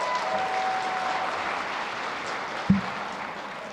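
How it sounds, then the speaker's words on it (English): Audience applause at a chamber of commerce annual meeting, a steady moderate wash of many clapping hands, slightly distant, with one brief louder knock partway through and the clapping continuing evenly to the end. "I should have said hold your applause to the end, but keep it going"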